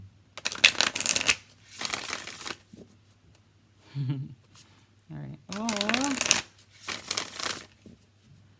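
Tarot cards are shuffled in quick riffling bursts, close and crisp, with pauses between them, while someone says a few brief words.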